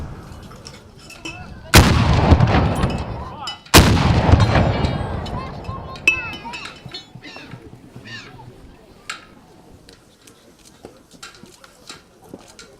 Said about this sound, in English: Then it was on to the traditional 17-gun salute